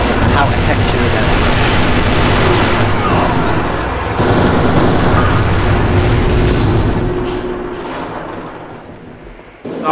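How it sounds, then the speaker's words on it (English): RPG explosion during a competitive AVA shooter match, a loud heavy roar of blasts and gunfire that rumbles steadily then fades out toward the end. "the explosion with the RPG"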